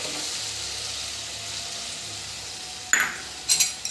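Ground tomato paste stirred in a hot pan, giving a soft continuous sizzle with light scraping, then a few sharper clinks of a utensil against the pan near the end.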